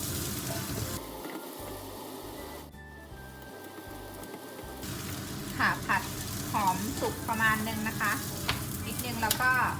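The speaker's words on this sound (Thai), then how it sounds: "แล้วก็ใส่หอมค่ะลงไปเลยค่ะ แล้วก็ผัดกับหอมอีกนะคะ" Sausage fried rice being stir-fried in a wok with pork and shallots: a continuous sizzle with a spatula scraping and tossing in irregular bursts, louder in the second half.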